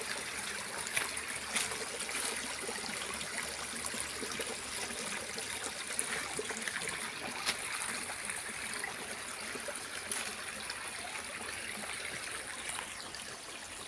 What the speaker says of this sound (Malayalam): നമ്മളിവിടെ വീട്ടിൻ്റെ താഴത്തെ തോട്ടിലാണ് വന്നേക്കുന്നത്